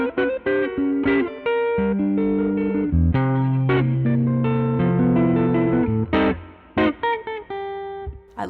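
A clean-toned electric guitar on the neck pickup of an offset Broadcaster-style build, run through a Benson Chimera plugin, plays plucked single notes and ringing chords with a little reverb, close and alone.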